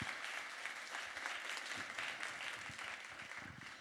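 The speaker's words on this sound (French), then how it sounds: "on peut les applaudir pour ce bronze" Steady applause from an audience at an awards ceremony for influence strategy prizes, a continuous wash of many hands clapping, moderately distant and fairly quiet, with no voices over it.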